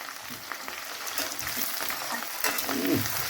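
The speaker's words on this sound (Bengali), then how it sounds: "এই যে ভাজা হচ্ছে দেখুন" Whole garam masala spices frying in hot oil in a wok, giving a soft, continuous sizzle with light stirring scrapes, fairly quiet and with no talking over it.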